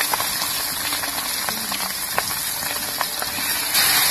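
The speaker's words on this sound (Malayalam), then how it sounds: "നമ്മൾ കാട നമുക്ക് മെല്ലെ ഇതിലേക്ക് വെച്ചു കൊടുക്കാം ആ എണ്ണ ചൂടാൻ സൗണ്ട് കേട്ടോ" Quail frying in hot oil gives a steady, loud, close sizzling hiss with scattered small pops and crackles throughout.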